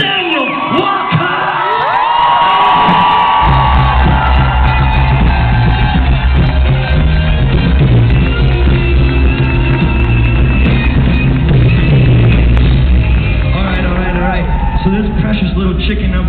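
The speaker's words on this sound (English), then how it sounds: "I want you guys to fucking scream." A live show audience screams, whoops and cheers loudly in a sustained roar that builds and holds, with a voice shouting over the crowd near the start.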